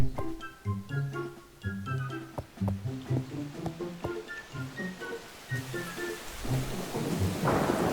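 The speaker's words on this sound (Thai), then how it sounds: "โอ้ย ฝนตก" Rain and rumbling thunder from the Mini World video game, with repeated low thunder rolls and a steady rain hiss that swells toward the end, all under playing background music.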